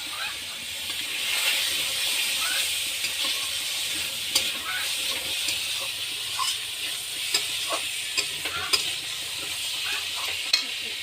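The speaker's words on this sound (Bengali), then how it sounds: "আর এখন মা শুটকিটা কড়াইতে দিবে বন্ধুরা।" Dried fish frying in a kadai, a loud steady hiss and sizzle with scattered crackles and occasional clicks of a stirring utensil, close and continuous.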